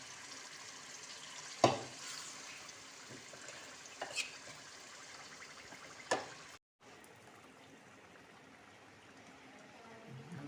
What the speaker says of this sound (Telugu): చికెన్ దమ్కి ఫ్రై బిర్యానీకి ఆయిల్లో వేపేస్తున్నాం అన్నమాట ఫ్రెండ్స్ చికెన్ని